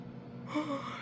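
A long, breathy yawn swells up close, a drawn-in rush of air that rises and fades, with no talking.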